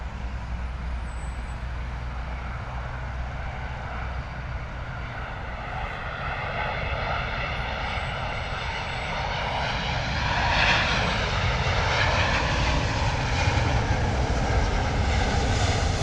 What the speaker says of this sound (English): British Airways Boeing 777-200 coming in from Nashville